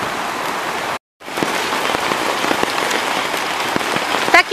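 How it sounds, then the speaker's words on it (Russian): Large hailstones pelt a garden of tomato plants in a dense, loud clatter of many small impacts, broken by one brief dropout, steady and close throughout. "Посыпался град."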